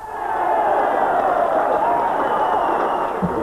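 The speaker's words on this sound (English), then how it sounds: "this well-worked 44th minute goal brought the Twerton Park crowd to life" Football crowd at Twerton Park, home of Bath City, cheering a 44th-minute goal: a broad, steady roar of many voices held at even loudness for the whole stretch, fairly distant and diffuse.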